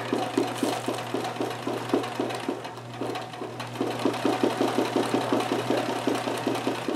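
A Kenmore 158.1914 sewing machine runs a zigzag stitch for free-motion embroidery, its needle chattering in a fast, steady rhythm over a low motor hum, close and continuous with a brief slowdown midway.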